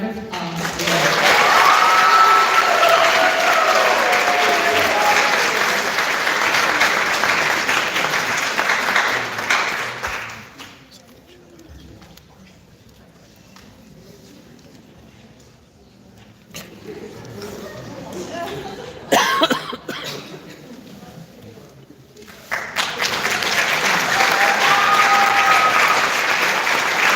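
Audience at a spring high school band concert applauding color guard members in the marching band, loud sustained clapping that drops away to a quieter lull in the middle, then swells strongly again at the end.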